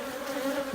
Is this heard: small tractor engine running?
no